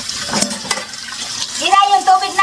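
Strong tap water runs steadily into a sink during dishwashing, a continuous broadband rush with people talking over it toward the end.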